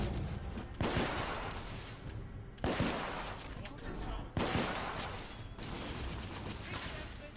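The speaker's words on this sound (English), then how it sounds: "I'm under heavy fire." Heavy gunfire in the video game The Order: 1886: sustained, loud volleys of rapid shots in three long bursts, each opening with a sharp crack, with a voice heard over the din.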